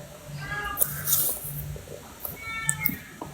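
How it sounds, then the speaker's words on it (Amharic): A hungry cat gives two faint, short meows, one early and one late, against a quiet indoor background. "ድመቷ አርቧት ነው ምግብ አልሰጣቸዋትም።"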